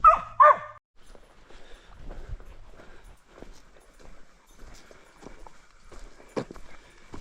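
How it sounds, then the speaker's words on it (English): A dog barks a couple of times up close at the start on the Appalachian Trail, then faint footsteps and quiet outdoor rustling carry on through the rest. "they just hiked on, so that's why Riley's barking."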